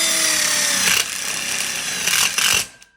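Power driver sinking self-drilling screws into a metal connector plate on an outdoor kitchen frame: a loud high whine that falls in pitch as each screw seats, with a short break and then a second burst that cuts off abruptly.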